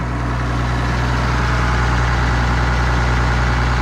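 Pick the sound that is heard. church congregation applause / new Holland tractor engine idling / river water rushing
new Holland tractor engine idling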